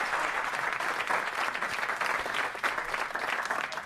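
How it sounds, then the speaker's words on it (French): A television game-show studio audience claps steadily and loudly for several seconds, a dense continuous applause with no talk over it. "Applaudissements pour eux."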